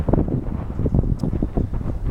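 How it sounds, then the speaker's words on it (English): Gusty wind blowing outdoors beside the Ohio River, buffeting the microphone with a low, continuous rumble that swells and dips throughout, with no voices. "It's getting a little windy out here"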